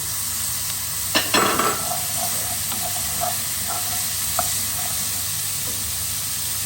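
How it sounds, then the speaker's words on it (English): Beans tipped into a pan of softened onions, setting off a burst of clattering and stirring over a continuous steady sizzle that settles back to an even fry. "So having allowed my onions to cook for a few minutes, I'm now going to add all my beans in."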